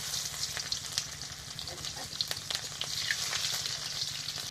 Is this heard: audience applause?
no